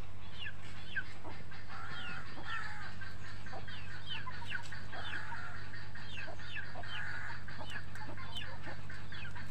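Repeated high, thin peeping calls from chicken chicks over a constant low hum, chirps coming in quick irregular bursts throughout.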